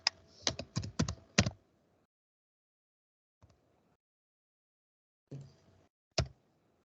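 Keys on a computer keyboard are typed in a quick burst of close clicks, then fall silent, with a faint tap and a couple more isolated keystrokes near the end.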